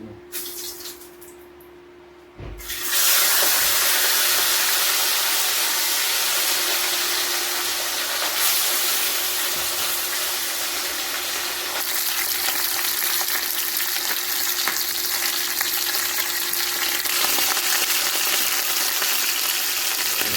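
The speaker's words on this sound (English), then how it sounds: "so look like the oil hot now, so now get the fish in the pot," Fish dropped into hot oil in a pot bursts into loud, dense frying, a continuous crackling sizzle that starts abruptly after a quiet moment and holds steady, close and alone.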